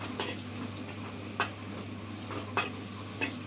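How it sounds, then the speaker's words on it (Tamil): Bitter gourd fries in oil with cumin, giving a low, steady sizzle under a faint hum, broken by four sharp spatula clicks against the pan at uneven intervals, close up and with no voices. "சீரகம் போட்டு பாவக்காய் நல்லா எண்ணெயிலே வணக்கி வெந்துருச்சு அரை வேக்காடு"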